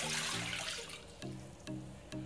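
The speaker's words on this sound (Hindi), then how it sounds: "मैं इसमें बड़े कप से 1 कप पानी डालूंगी।" Water poured from a large cup into a cooking pan on the stove for pasta, a broad close splashing rush in the first second that settles into a faint trickle, with some low tonal hum underneath.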